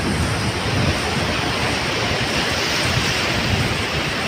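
Ocean waves surge onto a beach on a misty early morning, a loud continuous roar of surf and rushing water with wind buffeting the microphone, and no voices.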